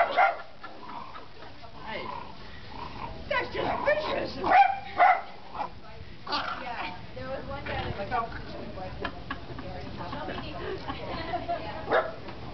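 A Pit Bull Dachshund puppy barks and yips in short bursts mixed with excited human voices talking over it, moderately loud and close.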